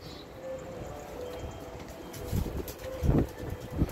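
Soft cooing and fluttering of a flock of tumbler pigeons, with a few louder bursts of wing flapping near the end over a low background rumble.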